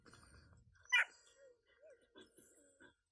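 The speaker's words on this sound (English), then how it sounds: "this is one of the downsides of teaching your dog to bark as a puppy" A dog barks during competitive retrieve training: one sharp, fairly close bark, followed by softer whines and yips over a quiet background.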